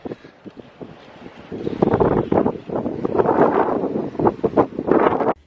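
Strong gusts of wind on an RV rooftop, buffeting the microphone in rumbling surges that grow louder after the first second and keep rising and falling without speech.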